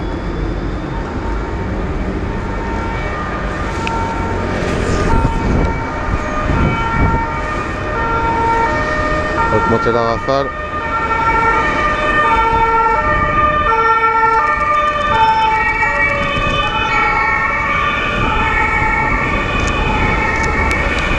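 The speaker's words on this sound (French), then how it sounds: "Par contre j'entends des gyros" Emergency vehicle siren wailing on a city street in Geneva, rising and falling repeatedly over traffic rumble and growing louder as it approaches; someone speaks briefly.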